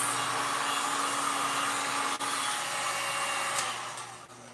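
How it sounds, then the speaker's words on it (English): A heat gun blowing hot air during a mixed media craft project, a steady close whooshing roar with a faint motor hum, continuous throughout and tapering slightly at the end. "So I'm just quickly heat gunning this."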